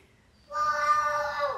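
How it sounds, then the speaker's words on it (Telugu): A single cat meow, drawn out and fairly clear, rises suddenly from near silence and holds for about a second. "పిల్లి మియావ్ అందా?"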